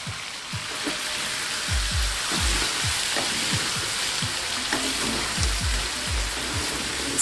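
Kachri powder and meat masala fry in a pan with a dense, steady sizzle, broken by repeated soft low thumps and scrapes of stirring, close up and without speech.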